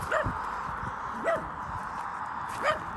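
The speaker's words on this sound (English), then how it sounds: "oh, are you barking at me?" A dog on a farm barks three times with pauses between, each a short yelping bark, somewhat distant and moderately quiet against a faint background.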